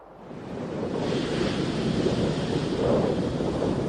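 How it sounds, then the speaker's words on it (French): Strong wind roars over crashing sea waves, a dense, loud, continuous rush that builds in the first second and stays steady. "Force 8 indique un vent fort. Des embruns soufflent au sommet des vagues."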